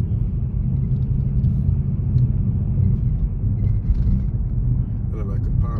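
A pilot car approaches along a road near Clovis, New Mexico, its engine a steady, loud low rumble that holds evenly throughout, with a voice talking faintly near the end.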